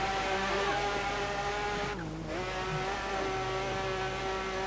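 Rally car engine in the racing game Dirt 3, a steady loud drone with harmonic whine that dips briefly then resumes, suggesting another car closing from behind.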